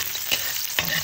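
Garlic fries in hot oil for a chopsuey made with pork belly, a close, steady hiss broken by two brief scrapes of a stirring utensil.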